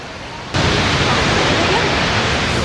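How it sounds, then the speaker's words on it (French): A waterfall in Iceland roars close by, a dense, steady rush of water that begins abruptly after a brief quieter moment and stays loud and unbroken to the end. "Au pied de la cascade, l'équipe."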